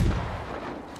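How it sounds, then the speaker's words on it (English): An explosion in the video game Ghost of Tsushima goes off as a loud, close boom at the start, then a short rumbling decay fades out over about a second. No one speaks during it. "See that explosion?"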